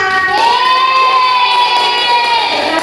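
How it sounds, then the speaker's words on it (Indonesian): Children clapping and cheering in a classroom, a lively burst of young voices ringing out over the clapping, loud and close throughout. "Tepuk tangan. Tangan kita semua."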